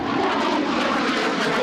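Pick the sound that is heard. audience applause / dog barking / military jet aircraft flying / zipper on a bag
military jet aircraft flying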